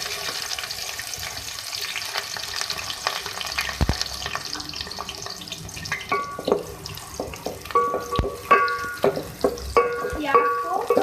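Chopped onions sizzle and fry in hot oil in a pan for a beef and spinach curry, a steady close crackle that grows busier toward the end with occasional stirring clinks.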